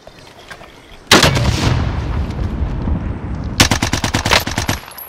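Automatic gunfire in a Warzone quads battle royale match, a loud sustained burst of rapid shots followed after a pause by a second rhythmic volley of sharp cracks, close and dominant.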